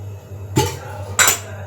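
A metal kadai set down on a stovetop before cooking, giving two sharp clanks about half a second apart with brief metallic ringing over a steady low hum.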